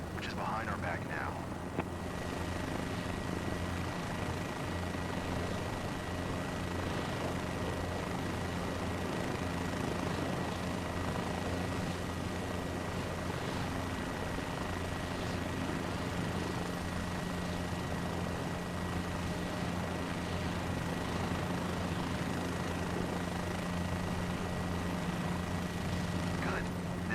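Helicopter engine and rotor in a flight simulator game, a steady droning whine with a constant low hum that holds evenly throughout, while a man gives instructions over it.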